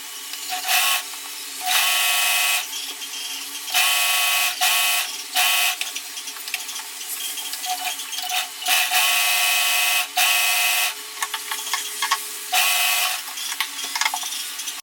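A sewing machine stitching along the edges of kurta fabric: loud, close, steady mechanical whirring in repeated runs of a second or two, with short pauses between bursts and no talk.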